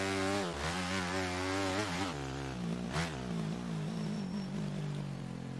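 A 250 motocross bike engine in MXGP 2019 on the Mantua track buzzes and revs, pitch rising and falling with throttle and gear changes, with a sharp blip around the middle, loud and continuous.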